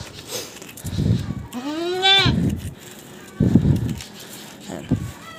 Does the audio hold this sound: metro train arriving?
no